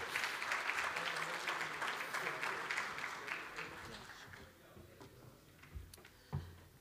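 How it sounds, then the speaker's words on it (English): An audience applauds a panel at a South African solar energy storage event, with a burst of clapping that fades after a few seconds into a quiet room with scattered small knocks. "Let's give them another round of applause, ladies and gentlemen"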